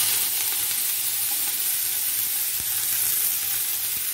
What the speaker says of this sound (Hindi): तेल अच्छे से गरम हो चुका है। अब हम इसमें 2 प्याज डाल रहे हैं